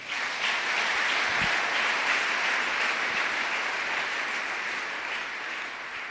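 A church congregation applauds and cheers during a morning prayer service, a loud, dense wash of clapping filling the space throughout and easing slightly toward the end.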